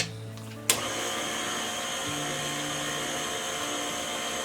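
An electric mixer starts with a sharp click and runs at a steady whir, with a pitch shift partway through, as it mixes almond flour, baking powder and salt into cream cheese almond cookie dough; no talking.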